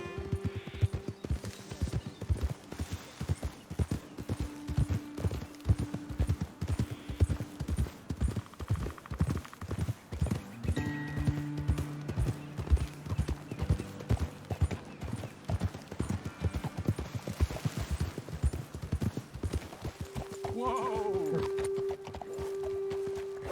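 Horses' hooves clop steadily in a fast, even rhythm while riding in Red Dead Redemption 2, loud and close over a soft music bed, ending with a brief whinny.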